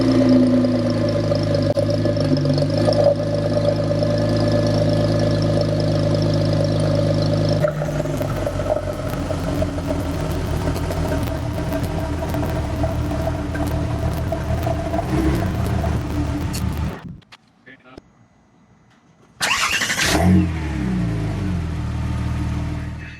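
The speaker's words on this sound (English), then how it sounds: "So as you could hear, the new starter is so much faster." Porsche 911 997 Turbo engine starting on a new starter and running, a steady close idle with revving, then a brief cut to near silence before it fires up again.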